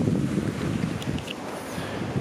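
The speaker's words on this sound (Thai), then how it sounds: "ลมมันเย็นมากหนาวมาก" Cold wind buffets the microphone on a hiking trail in Australia, a steady broadband roar without a break, fairly loud and with no talking over it.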